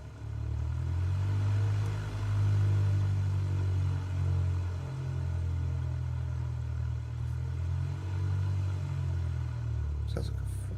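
Aircraft engine in the Microsoft Flight Simulator video game, heard while lining up on runway 36, a loud, steady, low rumbling drone that holds throughout with only slight swells.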